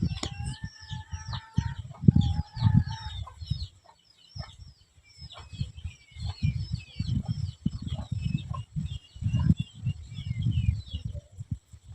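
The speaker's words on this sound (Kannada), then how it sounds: "ಅವು ಕೋಳಿನೂ ತಿನ್ನಾಗತ್ತೈತೆ ಅಂತ ಕಾಣಿಸ್ತೈತಿ." Chickens and a rooster on a rural Indian farm, clucking and squawking in repeated bursts close by, with crowing-like calls and other birds chirping over the flock.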